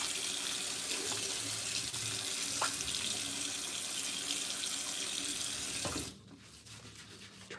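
Steady rushing stream from a bathroom tap runs continuously during shaving, loud and close, then cuts off near the end leaving quiet room tone.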